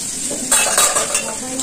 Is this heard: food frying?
yes